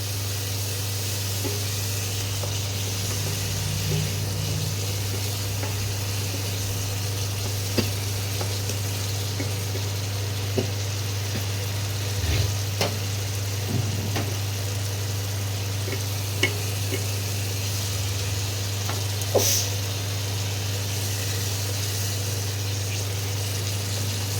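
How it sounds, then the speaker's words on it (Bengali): Spice paste sizzles steadily in hot oil for a vegetarian dish, a constant close hiss with a low hum beneath and occasional small pops and clicks. "মশলাটাতে এবারে তেল ছেড়ে দিচ্ছে।"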